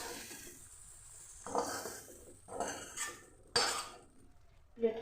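Fried okra lifted from a pan onto a plate brings several separate metal scrapes and clinks of a utensil against cookware between quiet gaps, with faint sizzling underneath.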